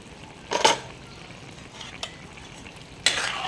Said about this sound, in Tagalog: Ito, halo-halo natin. Ginataan na gabi kayo dyan.